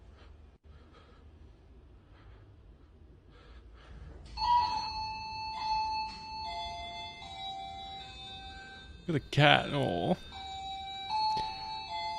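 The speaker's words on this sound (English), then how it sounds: "I hate that alarm sound." A ringing alarm tone with stacked, steady pitches sounds in repeated bursts through the second half, loud and close, with a short clattering knock in the middle and a brief voice speaking early on.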